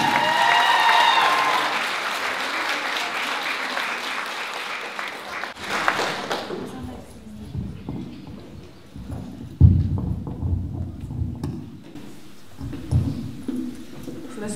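Audience applause at an evening performance in Carracastle welcoming a young woman to the stage, loud and steady for several seconds before fading into scattered claps and a voice beginning to speak.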